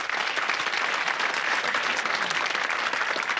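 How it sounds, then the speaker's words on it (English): A television game show studio audience, for the 1984 Blockbusters programme, gives a sustained burst of dense clapping that stays even and fairly loud throughout, with no talk over it. "So a round of applause as we meet the 3 new contestants."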